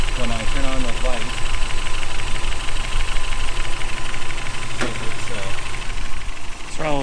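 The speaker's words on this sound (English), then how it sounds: "It seems to idle a little lower. It's got a miss in it." A car engine idles with a misfire, running slightly low and advanced in timing, giving a continuous rough, uneven rumble with a knocking beat. There are a couple of sharp clicks, and the idle stays loud and near throughout.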